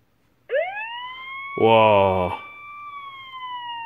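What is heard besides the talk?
siren sound effect played by Dash robot app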